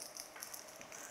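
Green peas dropped into hot oil in a pan, giving a steady, close hiss of frying with soft crackles throughout.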